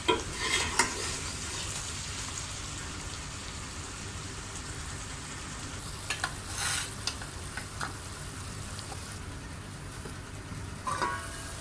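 Stuffed okra (bhindi) sizzles steadily in a frying pan as it is stirred, with occasional louder scrapes and clatters of the spoon against the pan over a constant crackling hiss, with no voices.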